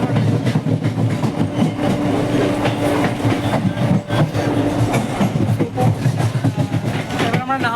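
Rumbling train interior as it slows approaching Bandel station, rhythmic clicking of wheels over rail joints, loud and continuous, a few voices murmuring beneath.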